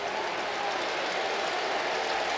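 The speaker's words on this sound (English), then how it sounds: "the crowd applauding" A baseball crowd at a Cincinnati Reds game applauds in a dense, steady wash of clapping that holds at an even level throughout, with no voices standing out.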